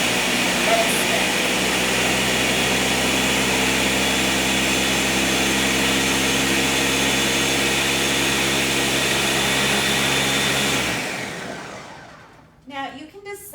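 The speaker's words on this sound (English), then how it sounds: "Now you can decide how long to blend it based on how chunky you want your jam" A countertop blender whirs loudly and steadily as it purees strawberries for jam, then cuts off near the end, leaving a few faint clunks.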